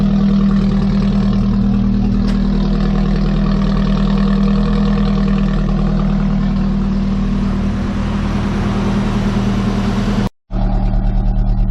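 A Nissan Hardbody mini truck engine runs steadily at warm idle through its exhaust system, a loud, close, low droning rumble with a brief cutout near the end.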